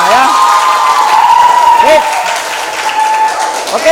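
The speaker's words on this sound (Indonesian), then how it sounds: "semuanya kalau gitu tepuk tangan untuk kita semua ya." Students in a physics classroom clap together loudly and steadily, with excited cheering and high voices mixed in over the clapping.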